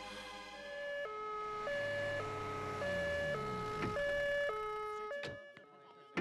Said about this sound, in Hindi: अजय, जल्दी से एम्बुलेंस बुलाओ और घर में सबको इन्फॉर्म कर दो कि सीधा हॉस्पिटल पहुंच जाए